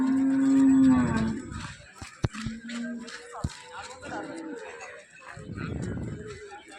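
Buffaloes low at the Kondamadugu buffalo market, a loud, drawn-out moo first, then shorter calls amid a busy outdoor crowd, with people talking, a couple of sharp knocks and shuffling around them.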